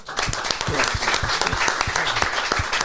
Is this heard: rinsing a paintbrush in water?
no